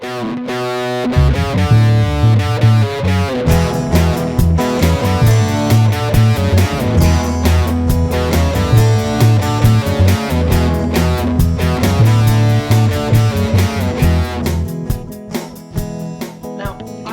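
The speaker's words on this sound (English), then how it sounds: "I ended up with a fuzz pedal, a 1960s fuzz pedal, and a jazz combo" A gritty, buzzing electric guitar through a 1960s fuzz pedal and a jazz combo amp plays a repeating riff over a steady beat, loud and saturated throughout.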